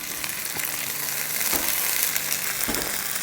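Garlic paste sizzling steadily in hot oil in a pan with carrots and onions, a continuous close hiss with a few brief stirring knocks, no voices.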